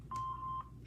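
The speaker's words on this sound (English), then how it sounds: "Please leave your name and phone number after the beep." A single steady electronic beep from an answering machine, lasting about half a second, pure and moderately loud over faint background hum.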